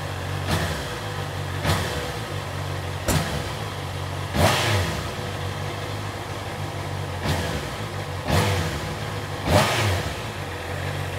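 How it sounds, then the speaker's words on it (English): A motorcycle fitted with an aftermarket exhaust from eBay idles with a deep rumble and gets blipped in several short, loud revs spaced a second or so apart, settling back to idle between each burst. "Give it a little rev."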